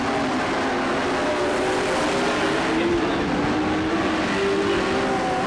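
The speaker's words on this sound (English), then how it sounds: "Ryan Falk in a 55 car heading off the track" Race car engines roar steadily on a racing track, a dense, continuous drone of several cars with rising pitch as they pass, loud and close throughout.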